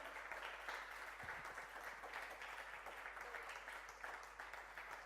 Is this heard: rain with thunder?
no